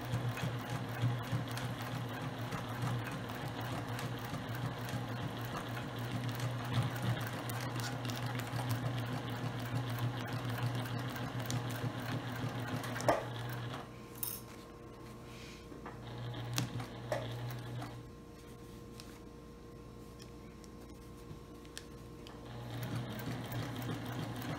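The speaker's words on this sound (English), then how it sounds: "And we're going to back stitch." A sewing machine backstitches a seam through clear vinyl for a drawstring bag, running in a steady continuous whir up close, pausing briefly mid-way, then resuming.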